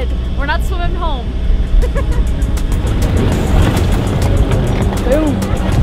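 A boat motor drones steadily up close on water in Gilgit-Baltistan, Pakistan, with faint voices rising briefly over the engine noise.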